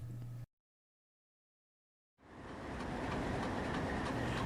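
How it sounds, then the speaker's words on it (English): A heavy grain freight train rolls through a railroad junction's south leg into Steamtown, its steady rumble and rail noise building after a brief gap and holding loud and close. "The train that we see here is using the south leg of the Y and is moving into Steamtown"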